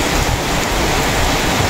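Heavy rain pours down with wind during the Christmas season, a dense, steady roar of water that stays loud and unbroken throughout, with no voices.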